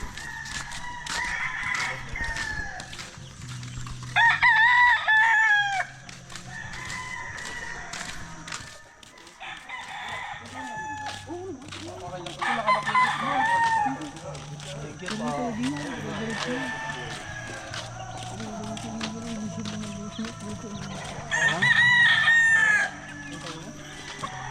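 Roosters on a chicken farm near Mount Banahaw, Philippines, crow in repeated loud calls, several nearby and others farther off, over constant clucking and hens chattering, while people talk at intervals.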